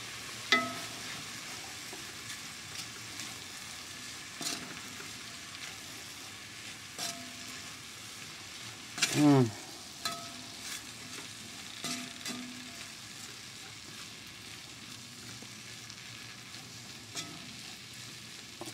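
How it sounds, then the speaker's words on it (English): Onions and peppers for vegan chili sizzle steadily in a pot, dusted with black pepper, cumin and chili powder, with occasional scrapes and stirs and one louder clatter partway through; no talking. "Continue cooking those onions and peppers down nicely."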